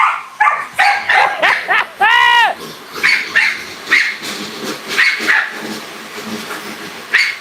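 Dog named Boo barking at an indoor dog mill: repeated sharp close barks and yips in uneven bursts, with one drawn-out whining howl, and other barking continuing throughout.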